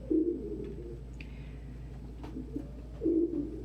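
Pigeons in a home loft coo in two low, throaty bursts at the start and end, close and clear over a steady hum.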